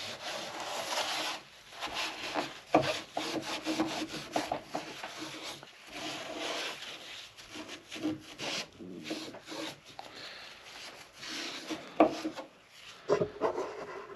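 Someone scrubs the carpet inside a semi truck cab with rough, rasping brushing strokes in an uneven rhythm. The sound is close and fairly quiet, with no speech over it.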